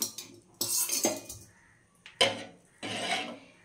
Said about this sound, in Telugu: ఇలా యాడ్ చేసుకున్న తర్వాత వెంటనే కలిపేయాలి.